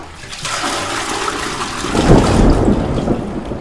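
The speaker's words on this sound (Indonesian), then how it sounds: "Akhirnya hujan." Steady rain hiss with a low rumble that swells partway through, broadband and fairly loud, no voices.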